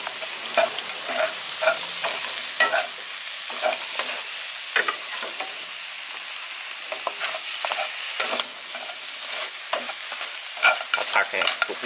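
Noodles and shellfish stir-fried in a hot pan for a Thai yen ta fo and mala fried rice dish, with a steady, busy clatter of spatula strokes and continuous sizzling throughout, close and alone without any voices.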